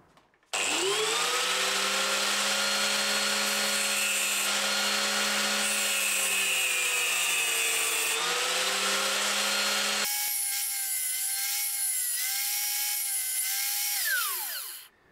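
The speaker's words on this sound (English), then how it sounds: "What I'm going to do now is to cut a slot in between the barrel nut and the socket bolt." A power tool whines steadily while cutting a slot between the barrel nut and socket bolt of a metal guitar truss rod, loud and close, shifting pitch midway and then winding down at the end.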